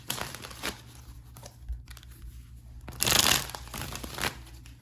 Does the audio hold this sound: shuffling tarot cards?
yes